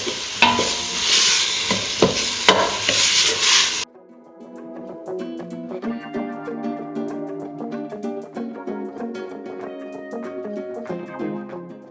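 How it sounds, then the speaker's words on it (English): Vegetables sauté in oil in a soup pot, a dense, steady sizzle broken by stirring scrapes; partway through the sound drops to a quieter, softer crackle with faint clinks, with no talking. "Okay, this is still sauteing away."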